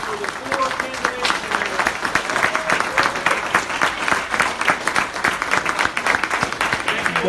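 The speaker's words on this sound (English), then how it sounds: "A round of applause for the 4 candidates." A candidate forum audience breaks into loud, sustained applause for four candidates, dense clapping from a fairly close crowd continuing for several seconds, with voices mixed in beneath it.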